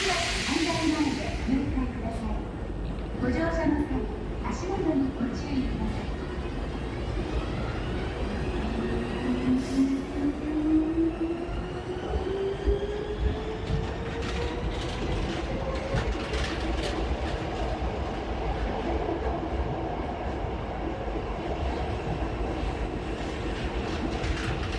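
Interior of a Hankyu Kyo-Train Garaku local train in the Osaka area, with steady rolling rumble, rising electric motor whine and light rail clatter running throughout, fairly loud and continuous.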